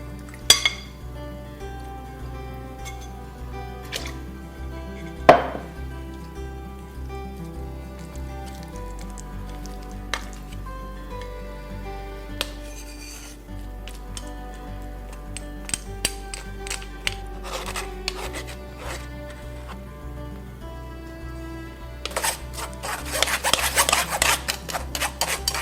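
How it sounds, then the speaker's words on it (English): Soaked tamarind pods rubbed and pressed through a sieve, a steady rasping scrape with occasional metallic clinks and taps, growing busier and louder toward the end. "We're going to take the pods and push them through a sieve."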